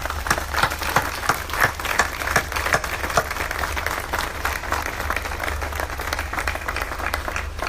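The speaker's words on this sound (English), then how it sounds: "join me in a round of applause to acknowledge the people that are with you here today" Graduates and guests at an Okanagan College spring convocation ceremony give sustained applause. Steady, dense clapping fills a large hall for several seconds with no talk over it.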